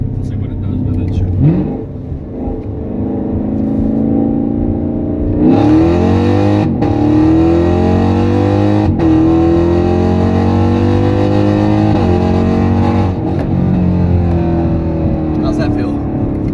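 A tuned 2019 Chevrolet Camaro SS V8 accelerating hard through its gears, loud rising engine roar broken by several sharp shift breaks, heard from inside the car with voices talking over it.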